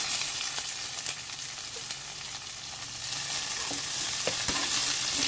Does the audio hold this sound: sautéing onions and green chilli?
yes